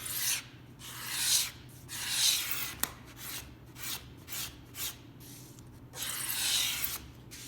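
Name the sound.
hand scraping a rosewood guitar back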